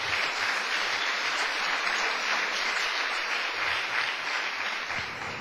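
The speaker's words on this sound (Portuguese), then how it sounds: "Uma salva de palmas para o Senhor." A congregation at a pastors' meeting claps together in a sustained, even round of applause that stays full and continuous, heard somewhat distant in a large room.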